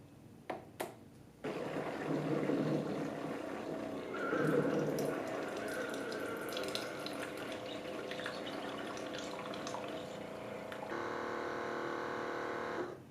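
A Hamilton Beach FlexBrew 49976 coffee maker brews a single K-cup, with a click and button beeps at the start, then a steady hiss and gurgle of hot water that continues throughout, changing to a brighter sputter near the end.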